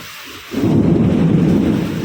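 Loud thunder breaks suddenly during a heavy rainstorm, a deep rumbling roar that rises abruptly after a quiet moment and holds steady with rain noise beneath, close and dominant.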